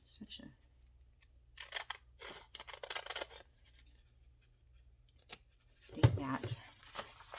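Scissors snip and trim junk journal paper in a few short close cuts between quiet pauses, with someone speaking briefly and a louder handling thump near the end.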